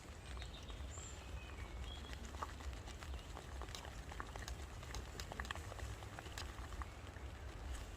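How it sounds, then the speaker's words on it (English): Steady rain patters on a tarp and tent overnight, a dense, even hiss of drops with scattered sharper taps, soft and continuous throughout. "The rain is starting again."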